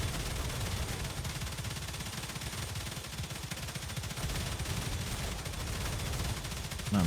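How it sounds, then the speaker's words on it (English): A turret gun in the game StarRupture fires in continuous rapid bursts, a dense steady rattle of shots that holds at the same level throughout with no voices. "Man, the recoil on this gun is insane."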